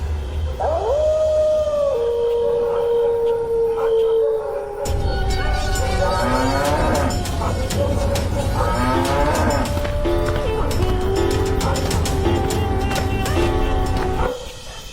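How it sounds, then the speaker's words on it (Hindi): A cow in an animated village story moos loudly and in long drawn-out calls, with the pitch sliding from each call into the next, first alone and then over busy background sound for about fifteen seconds. "घर पहुंचकर गौरी दर्द में फिर से रंभाते हुए भगवान को याद करती है।"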